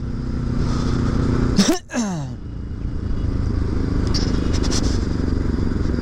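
A motorcycle engine drones steadily at low speed on a rough stretch of the Dharan–Itahari road in Nepal, with a brief dip and rattle over uneven ground; a voice talks over it.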